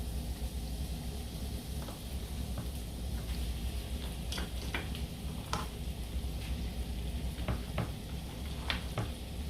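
Chopped shrimp cook in a pan with a low, steady sizzle and occasional faint crackles and pops, quiet and close without any talking.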